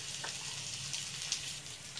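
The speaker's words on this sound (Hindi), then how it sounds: "लहसुन आदि और हरी मिर्च का पेस्ट डाल रही हूँ" Garlic and green chili paste fries in about two spoonfuls of refined oil in a pan, giving a soft, steady sizzle with no voices.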